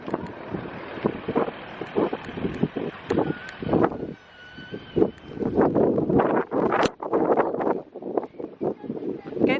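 Gusty wind buffets the microphone outdoors on a hot day with children around, rumbling beneath lively family chatter and shouting.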